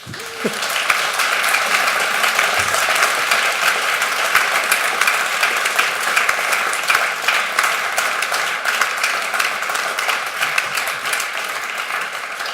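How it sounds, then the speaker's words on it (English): Loud, continuous applause from a large crowd at an astronomy for development event, a dense wash of clapping that holds steady for several seconds. "I think applause for all these guys."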